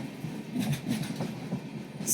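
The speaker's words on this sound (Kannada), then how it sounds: "ನಮ್ಮ ಟ್ರೈನ್ ಹಿಂಗೆ ಹೋಗ್ತಾ ಇದೆ ಇವಾಗ" A moving train between KSR Bengaluru and Yeshwantpur, heard from on board as a steady low rumble with faint clickety-clack wheel rhythm and a brief hiss rising at the end.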